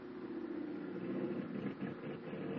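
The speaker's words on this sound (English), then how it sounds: "One engine sounds bad." Aircraft engine running rough in a radio drama effect: a continuous muffled drone with a low rumble, steady and fairly distant, with no voices.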